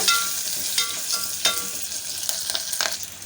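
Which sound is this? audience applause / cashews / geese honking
cashews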